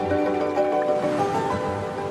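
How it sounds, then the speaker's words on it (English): Waves washing ashore with wind moving through mangroves on a Philippine coast, a steady broadband wash with low hum-like tones running beneath it, no voices. "The sound of waves and the wind in the mangroves have become a silent warning"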